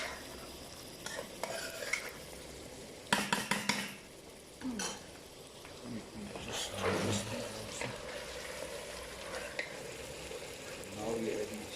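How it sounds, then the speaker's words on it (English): A spoon stirring yogurt into chicken karahi in a pot, with wet scraping and clinking against the metal, a few sharp knocks and soft sizzling underneath. "But as soon as you add the yogurt,"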